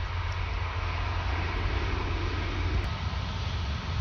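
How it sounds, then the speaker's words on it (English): An Air Caraïbes Airbus A350-900 taxis toward the runway at Orly, its engines a steady, heavy rumble with broad roaring noise that stays even and loud throughout, without voices. "Taxiing towards the runway,"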